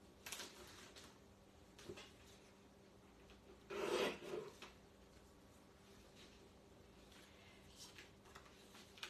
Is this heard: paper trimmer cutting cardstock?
yes